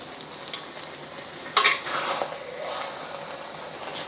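Cooked spaghetti stir-fried in a wok, heard as a short stirring clatter followed by a steady sizzle that lingers close and moderately loud with no talk.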